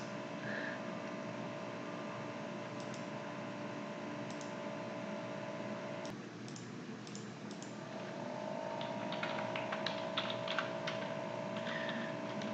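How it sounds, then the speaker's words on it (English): Quiet computer keyboard typing, light scattered keystrokes in short bursts over a steady hum of room noise, close and soft with no talking. "Notice that when I type this in, it is 49th Street."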